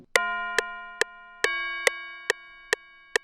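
A bright, pure bell tone in a trap beat strikes a short melody of eight evenly spaced, ringing notes, each with a sharp attack and a sustained tonal tail, alone and clean.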